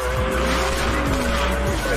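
Race car tires squeal hard through a curve in a sustained, high-pitched skid layered over a droning engine and repeated engine sweeps, loud and continuous.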